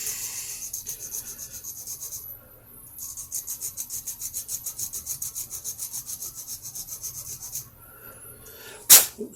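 A coarse file rasps steadily over a TJet slot-car dune buggy body, being cut down into a chopped-top coupe. Quick even strokes run for several seconds, pause briefly, resume, then end with one sharp loud burst.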